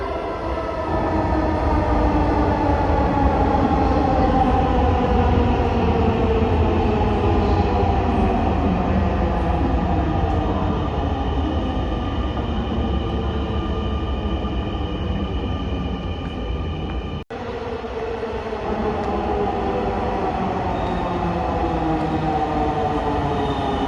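A metro rail train pulls into a station with a loud, sustained mechanical roar and descending whine of braking motors, close and continuous, briefly dipping near the end before the rumble resumes.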